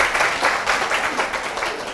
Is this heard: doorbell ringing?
no